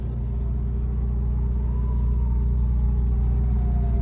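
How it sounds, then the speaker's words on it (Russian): An electric Ferrari drives along with a steady low rumble and faint whine, a constant close hum of motion without pauses or talk. "Итак, выбор пал на Феррари электрический."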